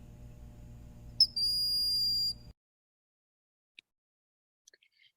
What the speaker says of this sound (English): This is that typical high-pitched whistle call that we hear in the forest.